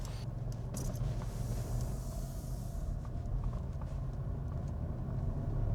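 A car driving along the foggy Ring of Kerry coastal road near Kenmare, with a steady low engine and road rumble inside the cabin, continuous and moderately loud, no talking.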